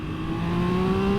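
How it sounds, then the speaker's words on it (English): A 2022 Triumph Speed Triple RR motorcycle engine revving, a close, loud, smooth rising whine held steadily through a short burst with no talk. "And it revs fast."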